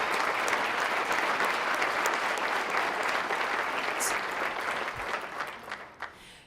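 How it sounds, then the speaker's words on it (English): An audience at a live event for a Colorado county gives a sustained round of applause, dense clapping throughout that thins out and fades near the end. "So let's give NREL a round of applause."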